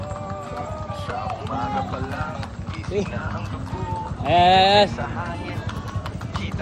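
Horses of the Liliw Horse Owner Association clip-clopping steadily through an anniversary parade, a continuous rhythmic patter of hooves beneath singing voices and a shout.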